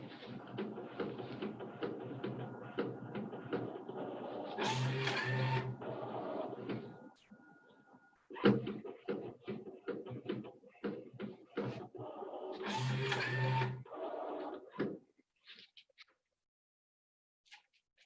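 A desktop label printer with a built-in cutter runs in two mechanical bursts of printing and feeding, each followed by clicks and knocks. A quiet gap falls between the bursts, and the sound trails off into silence at the end.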